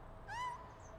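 A single short, faint cat meow in the PowerWash Simulator video game rises briefly over a low steady background hum.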